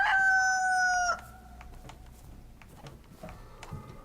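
A rooster in the game DayZ crows once, loud and close, with a drawn-out call that cuts off after about a second, followed by quiet game ambience and faint scattered clicks.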